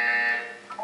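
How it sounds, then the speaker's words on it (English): A short electronic buzzer from the Portal 2 video game sounds once, a steady mid-pitched tone lasting nearly a second, then shifting pitch briefly at the end, with no talk over it. "When you hear the buzzer, look down at the floor."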